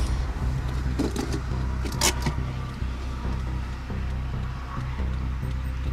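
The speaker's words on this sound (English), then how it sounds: "can't hear you because of all the traffic" Road traffic rolls past in a continuous low rumble, with a few brief louder swooshes of passing vehicles and some faint clinks over the steady drone; no one speaks.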